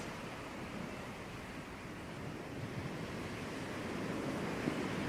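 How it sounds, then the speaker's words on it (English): Ocean waves wash steadily in and out along a beach in a soft, continuous surf roar, with no voices and a slight swell in loudness toward the end. "the waves continue to flow in and out along with your breath"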